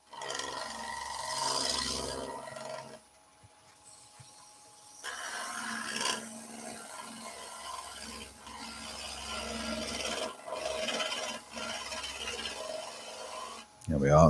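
A gouge on a wood lathe cuts a staircase spindle with the bevel rubbing to curb vibration: a steady rasping, roaring cut over a motor hum, with a brief pause midway and talk in places.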